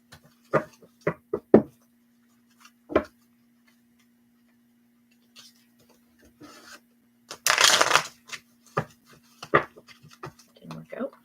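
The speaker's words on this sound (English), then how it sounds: "So we're gonna cut the deck." A deck of tarot cards is cut and shuffled close by: a run of sharp taps and clicks, a brief rustling riffle burst partway through, then scattered light card snaps.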